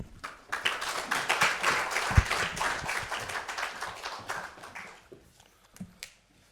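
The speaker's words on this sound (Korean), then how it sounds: "목사님 나오실 때 박수로 인사하겠습니다." A church congregation at a broadcast breakfast worship service claps to welcome the pastor to the pulpit, a dense scattered round of hands that swells, holds steady, then thins out into a few last claps.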